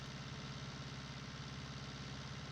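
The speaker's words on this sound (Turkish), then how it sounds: "Şu traktörle şu tarlayı sürmek." Tractor engine in Farming Simulator 2019 pulling a plow across a field, a steady low idling-style drone with faint knocking vibration, continuous and even throughout with no talk.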